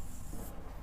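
Pen or pencil writing math working on paper, a short continuous scratchy rubbing close by with low background hum and no talk.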